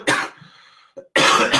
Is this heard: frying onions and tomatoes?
no